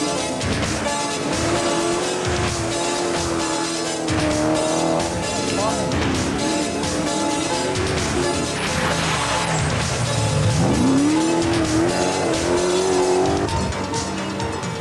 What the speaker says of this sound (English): Glory year for the big, brutal 300 horsepower Rover V8.